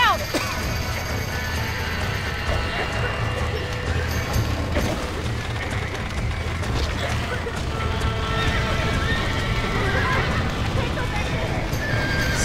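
Horses whinny and stamp in Red Dead Redemption amid creaking barn mechanisms and hoof clops, loud and busy, with people talking over the game sounds throughout.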